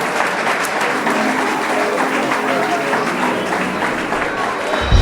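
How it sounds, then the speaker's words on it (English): Steady applause from a podcast panel audience fills the whole stretch, loud and continuous with some crowd noise mixed in. "Y'all clap it up and make some noise for yourself."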